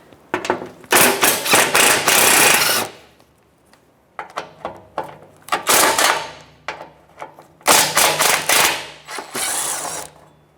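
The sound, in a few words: 12mm socket wrench removing Toyota 4Runner shield bolts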